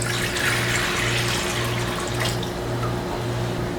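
Water pouring for bread dough, 650 grams, in a steady splashing stream with a faint pulsing hum beneath it, close and continuous without speech.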